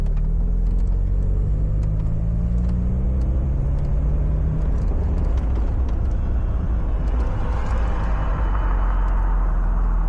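A Mazda Miata NA with Megasquirt engine management drives slowly on the street during a tune, giving a steady low engine drone and road rumble that rises in pitch partway through, with no speech.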